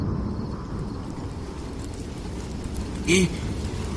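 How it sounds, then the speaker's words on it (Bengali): A storm with heavy rain and strong wind makes a steady, dense roar throughout, with a short sharper sound rising briefly near the end. "এই যে ঝড় শুরু হয়ে গেছে গো।"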